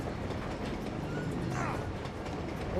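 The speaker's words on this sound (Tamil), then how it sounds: "ட்ரெயின் போயிட்டே இருக்கா" A train rolling along in the video game Uncharted 2: Among Thieves, a steady low rumble with faint clatter under game effects, constant and moderately loud across the moment.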